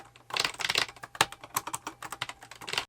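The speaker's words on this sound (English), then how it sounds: "A minor con might be the noticeable ping when pressing the buttons." Buttons on a hitbox-style game controller pressed in quick irregular bursts, each sharp click carrying a slight metallic ping, close and quiet with no voices.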